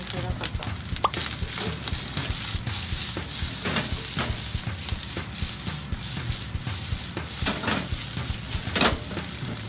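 Onions sizzling and being stirred in a hot pan for salmon fried rice, a steady frying hiss broken by repeated scraping and tossing strokes of a spatula, with someone talking over it.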